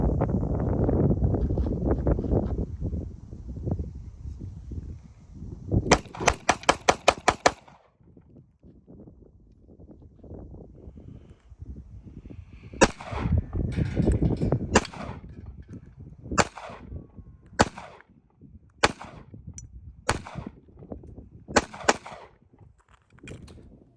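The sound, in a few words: Sig Sauer P238 pistol rapid firing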